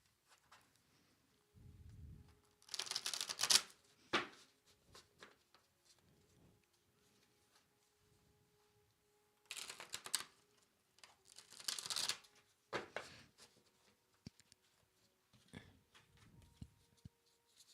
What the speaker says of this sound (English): I'm shuffling cards while I wait to see.